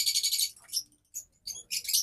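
Colourful lovebirds kept as pet birds, chirping in quick high-pitched bursts of bright twittering, separated by short silences, close and clear with no talking.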